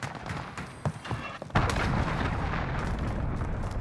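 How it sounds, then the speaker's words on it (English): Sudden heavy boom of a cruise missile strike in Call of Duty Modern Warfare, cutting in after scattered gunfire and thuds and rolling on as a loud sustained rumble. "Enemy cruise missile incoming"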